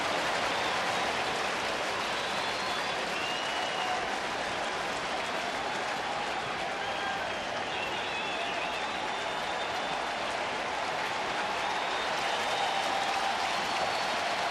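Baseball stadium crowd in Cincinnati at a July 2009 Cardinals–Reds game cheers and applauds loudly behind rookie left-handed pitcher Daniel Ray Herrera on a full count, a continuous roaring wash of clapping that holds steady for the whole stretch.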